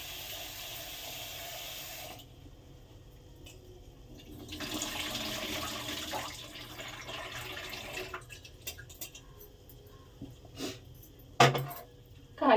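Cauliflower washed under a running tap, with water pouring steadily then pausing, followed by scattered handling clatter and a few sharp knocks near the end.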